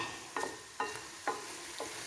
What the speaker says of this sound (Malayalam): ഇനി നമുക്കൊരു 2 മിനിറ്റ് കഴിയുമ്പോൾ ഒന്ന് ഇളക്കിയിട്ട് കൊടുക്കാം